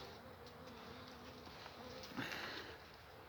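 Steady, dense buzzing of many honeybees in a hive at close range, a continuous droning hum with no voices.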